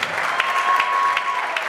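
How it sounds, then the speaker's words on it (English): Steady applause from an audience at a high school jazz band concert, a dense wash of clapping with a sustained tone running through it, fairly loud throughout. "Round of applause"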